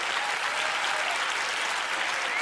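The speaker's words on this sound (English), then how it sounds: "You can applaud for her as she does." A studio audience at a magic competition show applauds in a dense, steady wash of clapping that holds at full loudness from start to finish.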